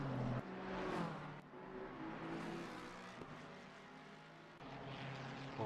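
BMW race car engine in a sim racing game, a loud continuous roar with shifting pitch as it exits a corner, another car's engine blending in.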